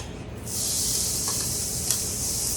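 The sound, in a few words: onion sizzling in olive oil in a pan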